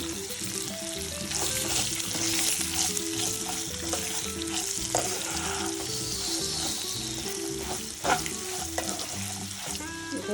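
Fried peanuts and potatoes tossed into green chillies in a pan for sabudana upma, frying with a dense, continuous sizzle and stirring clatter. Close and steady throughout, with an occasional louder scrape and no talking.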